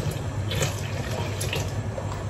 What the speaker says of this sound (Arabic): احط عليهم مية.